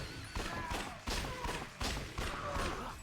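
Repeated gunfire while shooting zombies in Yakuza Dead Souls, four or five sharp, evenly spaced reports over a constant game soundtrack, fairly close and moderately loud.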